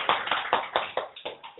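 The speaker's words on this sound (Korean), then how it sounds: "뜨겁게 박수로 환영합니다" Applause rings out in a small church to welcome a newcomer who played the piano accompaniment, a steady run of close, rhythmic claps that keeps a brisk beat for the whole moment.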